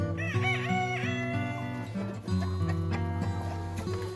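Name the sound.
chickens in a hen house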